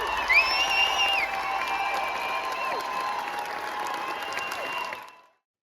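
A theatre audience applauds and whoops after a musical's finale, with dense, steady clapping and a few high cheers over it, heard at moderate distance before fading out.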